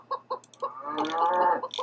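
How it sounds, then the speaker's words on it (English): A chicken clucking as a sound effect in a coding lesson animation, a few short clucks followed by a longer drawn-out squawk and more clucks, clear and close with no talk. "And I see I've got a chicken."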